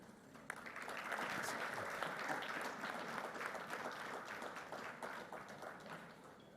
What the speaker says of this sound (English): a round of applause for Rwanda Green Fund for their efforts in resource mobilization